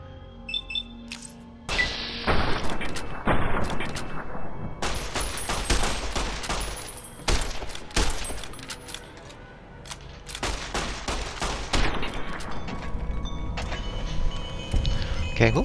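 Rapid automatic gunfire from the game Fallout: New Vegas, loud bursts of fast repeated shots with short pauses between volleys, no talking over it.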